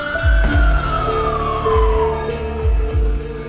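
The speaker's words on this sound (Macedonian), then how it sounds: "Амбулантна кола од Прилеп дојде додека снимавме." A loud ambulance siren wails with a slowly falling tone as the vehicle arrives at an infectious disease hospital, with a low engine rumble and rhythmic thumps under it.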